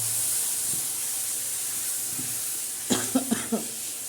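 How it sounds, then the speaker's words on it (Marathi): Masala paste for a makhli bhaji frying in a pan, a steady hiss under background noise, then four quick stirring scrapes and clatters near the end. "असं छान असा परतून घ्यायचा बघा असं चांगला परतवायचा आपला मसाला"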